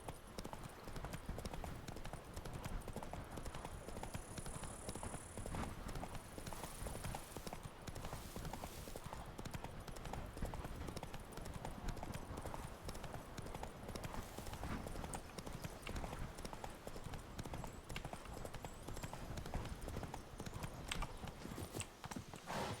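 Hooves clip-clop steadily and continuously as Roach the horse gallops in The Witcher 3, a dense rapid rhythm with a faint occasional voice beneath.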